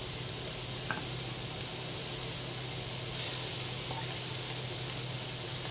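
Potatoes and hot dogs sizzle steadily in a pan, a soft, even hiss of frying held at a low level throughout, with no one talking.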